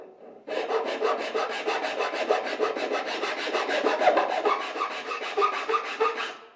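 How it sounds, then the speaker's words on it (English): A metal file rasps steadily across a chisel-cut surface in wood during furniture making, producing continuous close-up scraping strokes with no talking for about six seconds. "I'm just going to use a file."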